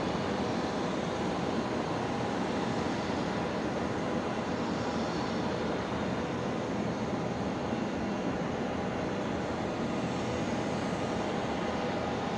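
A jet departing Brisbane Airport's runway 01 right on New Year's Eve gives a steady, continuous broadband roar at constant loudness throughout, with no talk.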